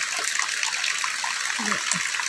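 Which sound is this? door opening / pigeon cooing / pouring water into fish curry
pouring water into fish curry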